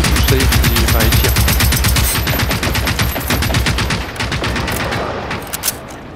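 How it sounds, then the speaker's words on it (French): An explosion in a cooperative multiplayer game, a gas or fuel canister at the back of a vehicle blowing up, comes amid a loud, dense burst of rapid gunfire that continues throughout before easing slightly near the end. "Magnifique d'explosion."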